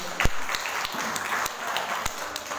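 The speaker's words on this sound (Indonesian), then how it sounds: "Tepuk tangan kita semuanya." A gathering of a Muslim women's organization breaks into applause, a moderately loud patter of many hands with a few sharp, distinct claps standing out.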